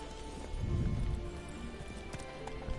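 Horse hooves gallop in The Witcher 3 video game, a fast rhythmic clip-clop of a running horse, fairly faint, over continuous game background sound.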